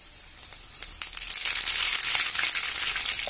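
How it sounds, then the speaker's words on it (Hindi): Red chillies, coriander, jakhiya seeds and spices sizzle in hot oil for a Himachali stinging nettle saag, with a bright crackling hiss that swells and settles into steady frying, close and loud with no talk. "तेल गर्म होने के बाद ये डाल देंगे थोड़ी लाल मिर्चें"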